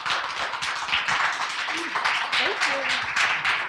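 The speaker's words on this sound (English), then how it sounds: "So will you guys give a big round of applause for Chris Lollie for joining us?" Audience at a social-justice gathering applauding a guest, dense sustained clapping with cheers and voices mixed in, steady and close throughout.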